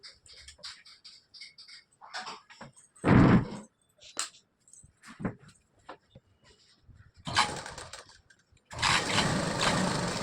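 A sewing machine stitches a fabric seam for a dress neckline in several short motor bursts, with a longer steady run at the end and faint handling noises in between.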